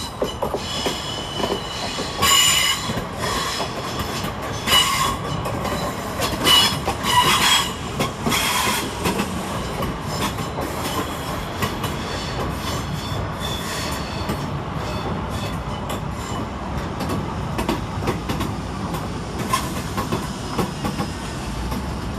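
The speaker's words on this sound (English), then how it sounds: "Next train in, 455-837 and 455-819, with the 1801 Southern Railway service from Epsom Downs to London Victoria" Two coupled Class 455 Southern Railway units on an Epsom Downs to London Victoria service roll into Clapham Junction, wheels clattering over rail joints with bursts of squealing, a continuous loud close rumble throughout.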